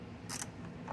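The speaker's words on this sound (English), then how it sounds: "Ratchet on here," A ratchet wrench tightening a 3/8 fuel line fitting on a Tecumseh TC2 carburetor from a power drill model 8900 ice auger, heard as a brief, quiet ratcheting click.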